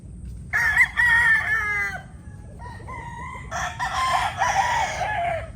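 Yellow-legged hatch gamefowl rooster crowing nearby, two loud drawn-out crows separated by a short pause with softer clucking between, over a low background hum.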